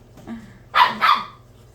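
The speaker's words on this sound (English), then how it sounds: "And yeah, the dogs are still around." Dogs barking nearby, two loud barks close together after some quieter yips, with no talking over them.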